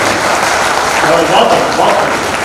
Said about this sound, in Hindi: एक बार दोनों हाथ उठा के जोरदार ताली बजाएं